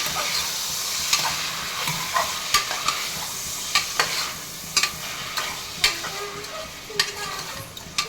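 Mutton frying with turmeric and salt is stirred steadily in a pan, giving a constant close sizzle broken by irregular scrapes and clacks of the spoon, with no talking.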